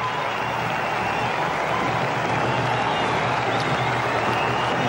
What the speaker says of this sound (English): Brings the crowd alive